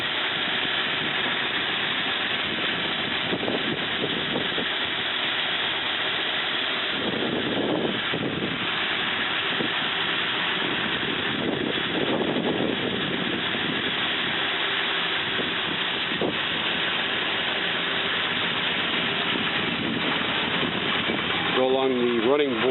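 A stock flathead V8 idles steadily in a 1935 Ford 3-Window Coupe, a constant low rumble under wind noise, with someone talking over it at times.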